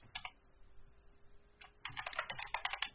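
Git commands typed on a computer keyboard, with a short burst of clicking keys, a pause, then a longer run of rapid keystrokes, close and fairly quiet.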